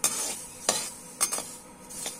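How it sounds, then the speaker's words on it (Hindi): Dry rustling and scraping of sesame seeds dry-roasted in a hot wok, with a few sharper scrapes of a spoon against the metal, close and fairly quiet. "सूखी कढ़ाई में ही हमें डालना है तिली और इसको हल्का भून लेना है हमें।"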